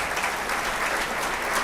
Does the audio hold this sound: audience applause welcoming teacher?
yes